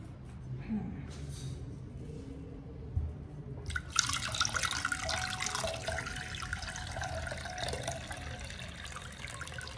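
Coconut water pouring into a large pot, a gurgling, splashing stream that starts partway through after quieter fumbling, with someone talking in the background.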